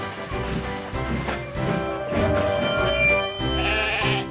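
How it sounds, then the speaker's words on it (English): Sheep bleating over a music bed, a few wavering calls at moderate loudness blending with orchestral accompaniment in a storybook railway scene. "Sir Handel had to check suddenly to avoid running over a sheep"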